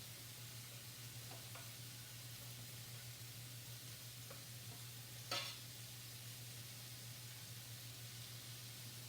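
Beef browns in a hot pan for enchiladas, giving a steady, even sizzle throughout, with a few faint scrapes and one brief louder clatter near the end.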